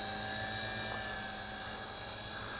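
JJRC JX02 four-channel RC helicopter flying outdoors, a steady high-pitched motor whine with rotor buzz, close and continuous with little variation.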